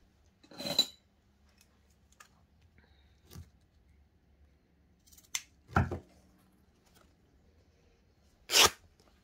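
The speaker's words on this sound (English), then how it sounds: "So I'm just going to cut it to the height of that cover." Scissors cutting through a piece of fabric sized to a junk journal cover: three or four separate crisp snips spaced a few seconds apart, close and fairly loud against a quiet room.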